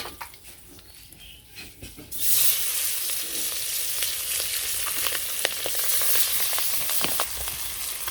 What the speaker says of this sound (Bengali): বাকি দুইটা ভেজে নিই